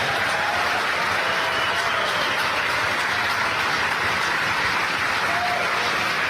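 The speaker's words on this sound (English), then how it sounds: "You hear the applause in the background here in Hawthorne." Steady, continuous applause rises from a crowd of staff at SpaceX Hawthorne during a launch, a dense even roar of clapping heard as background at moderate volume.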